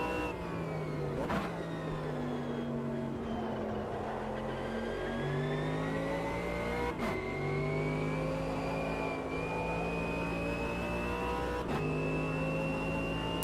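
A race car in the Automobilista 2 racing game brakes hard at the end of a straight, its steady engine note falling and rising through downshifts, loud and continuous with no voices.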